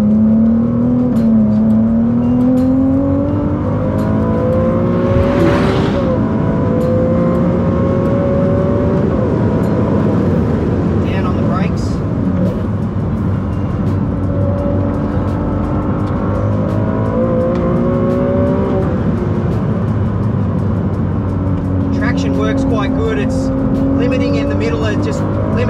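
Ferrari 296 GTB engine revving hard on a hot lap, a loud, continuous in-car engine note rising and falling through gear changes, with a driver talking over it throughout.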